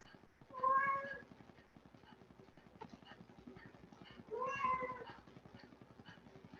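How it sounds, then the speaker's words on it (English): A pet cat meows twice, clearly and close by, about four seconds apart, each call standing out over a quiet room where a yoga workout is under way. "there's my little kitty coming to give me some gratitude as well, probably letting me know that she needs a little something."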